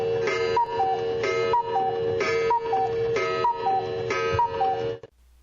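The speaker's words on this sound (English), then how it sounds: "An intricate cuckoo clock on the wall near them squawked 8 times." A wall-mounted cuckoo clock sounds its two-note cuckoo call in a steady repeating series of about five strikes, clear and close, with the mechanism ringing faintly beneath, then stops abruptly.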